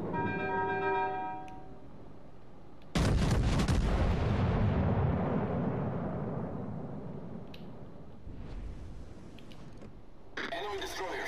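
Heavy naval gunfire in World of Warships Legends: a loud deep salvo erupts and rumbles away slowly, followed by further distant booms, while a voice talks throughout.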